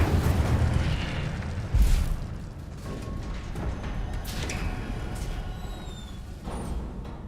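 Incendio fire spell cast in the Hogwarts Legacy video game: a rumbling burst near 1.8 seconds over a steady roar, followed by lighter crackles and faint whistling tones, no talk.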